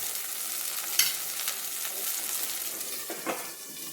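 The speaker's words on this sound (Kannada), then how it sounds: "ಸ್ವಲ್ಪ ಮೀಡಿಯಮ್ ಫ್ಲೇಮಲ್ಲಿ ಇಟ್ಕೊಂಡು ಸ್ವಲ್ಪ ಮುಚ್ಚಿ ಏನು ಫ್ರೈ ಮಾಡ್ತೀವಿ." Onion, ginger and garlic fry in oil under a lid over a medium flame, giving a steady close sizzle with a couple of brief scraping stirs and no voices.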